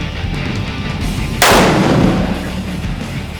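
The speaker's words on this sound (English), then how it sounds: "we shot 3 rounds at 100 yards" A single sharp, loud rifle shot cracks out mid-clip at a 100-yard range during scope sighting-in, then decays over the steady background noise.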